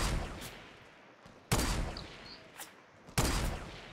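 Gunfire in the battle royale video game Fortnite: two loud, sharp shot bursts a second and a half apart with echoing decay, plus a fainter crack between them, over a soft game background with no talk.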